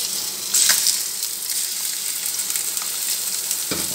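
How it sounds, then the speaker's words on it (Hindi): Chicken frying in about two cups of oil with salt for Peshawari karahi: a steady, close hiss of sizzling oil with a brief louder spatter near the start and a stirring knock near the end. "हम इसको फ्राई करेंगे इस ऑयल में"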